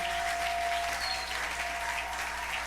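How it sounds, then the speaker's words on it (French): Church congregation applauding during a sermon, a continuous wash of many clapping hands, fairly distant and even, with no speech over it. "Applaudis très fort pour le roi des rois."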